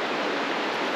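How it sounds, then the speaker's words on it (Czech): A waterfall at Vranov nad Dyjí giving a steady, dense rushing roar with no breaks, fairly close and unbroken by any voices. "zase vodopád, jasně."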